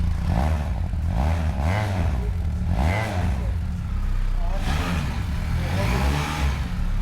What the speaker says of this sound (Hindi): अभी दिव्रूप पाजी को कहेंगे थोड़ा सा इसे रेव करके दिखाएं हमें, और इसकी फिर साउंड सुनते हैं।